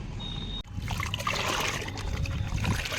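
Liquid mustard cake fertilizer mixed with water and wood ash is poured from a mug onto a potted plant, giving a close, continuous trickling and splashing that starts after a brief clatter, with no talking.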